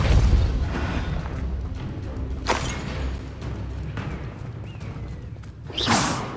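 The Depulso spell is cast in the video game Hogwarts Legacy: a forceful whooshing burst with a deep boom, then a quieter stretch and a second sharp swoosh near the end, with no voices.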